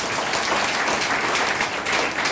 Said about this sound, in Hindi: ये जोरदार तालियां से देखो।